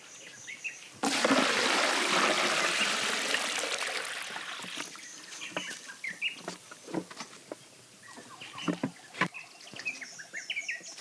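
Water pours into a baobab tree converted into a cistern in Madagascar, a loud rushing splash that fades over several seconds, followed by scattered trickles and drips with birds chirping in the background.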